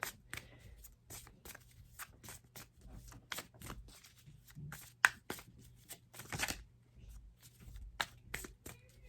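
Quiet, steady shuffling of an oracle card deck, with repeated soft slaps and riffles close by over a low background hum.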